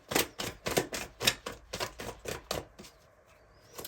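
Tarot cards being shuffled by hand in a rhythmic series of about ten crisp riffling snaps, close to the microphone, gradually fading into quieter rustles at the end.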